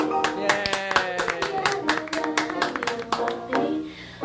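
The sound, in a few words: audience applause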